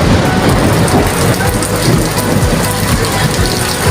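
Dense, loud rain pours steadily in a village in Barisal, Bangladesh, with low rumbling thunder beneath the downpour.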